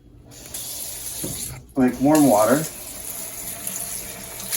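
Warm tap water splashes into an opened can of snails being rinsed in a kitchen, a short burst of running water after a brief pause, heard close and fairly loud.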